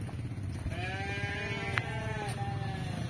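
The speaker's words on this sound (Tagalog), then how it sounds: "Yan, mga tupa." A neighbor's sheep bleating on a farm, several wavering drawn-out bleats overlapping over a steady rumbling background, moderately distant.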